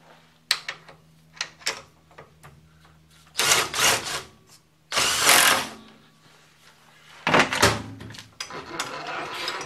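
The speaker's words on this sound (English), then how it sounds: "Alright, so we'll drill our hole there." A power drill bores a 1/4 inch clearance hole in three loud whirring bursts, each a few seconds long, separated by quieter clicks and handling noises close by.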